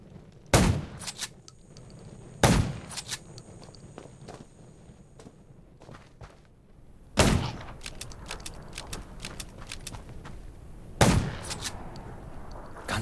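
Gunfire in the zombie survival video game Undawn: four loud, isolated shots ring out a few seconds apart, each with a short echoing tail over a quiet, rustling background.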